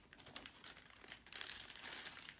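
Quiet, close crinkling and rustling of paper being handled and torn, an irregular stream of small crackles that grows busier toward the end, with no speech.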